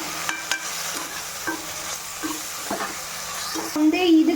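Paste being stirred in a pan for chicken biryani, soft sizzling with intermittent scraping and knocking of a spoon against the pan, growing louder toward the end.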